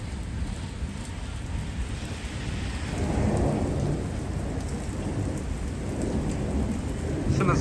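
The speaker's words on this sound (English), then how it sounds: "The rain is slowing down, but there's some good thunder." A spring severe thunderstorm brings steady rain hissing on surfaces while a deep rumble of thunder swells midway and lingers, heard close and alone with no voices.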